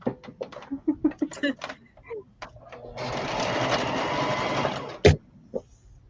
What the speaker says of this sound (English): seam the skirt together, if I can